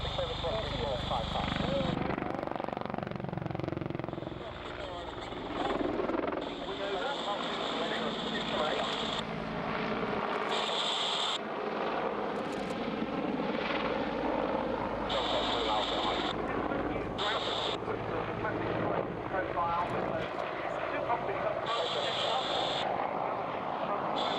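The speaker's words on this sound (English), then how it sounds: "being a battlefield helicopter operation in that environment" A Czech Air Force Mil Mi-24 Hind battlefield helicopter roars continuously and loudly with a steady rotor and turbine wash, while someone narrates over the noise throughout.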